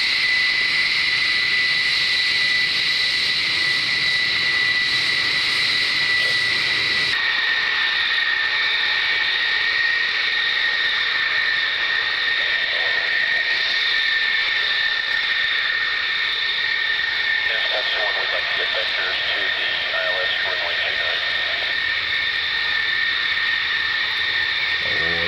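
General Dynamics F-111 jets at RAF Lakenheath in the 1990s give a loud, continuous roar with a high engine whine, steady across the whole stretch and shifting slightly in tone partway through, with no voices.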